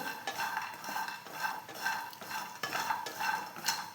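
Jackfruit seeds are roasted and stirred in a pan, giving repeated scraping and rattling strokes of a utensil against the pan in a steady rhythm, close and fairly quiet, with no talking.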